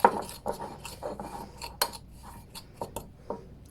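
Spoon mixing bicarb into a drink bomb mixture in a bowl, a quick run of close clinks and scrapes against the dish at an irregular rhythm, without voices.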